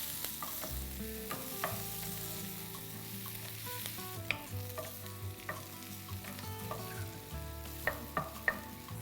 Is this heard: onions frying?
yes